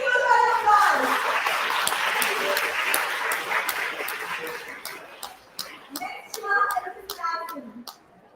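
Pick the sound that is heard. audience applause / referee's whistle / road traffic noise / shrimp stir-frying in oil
audience applause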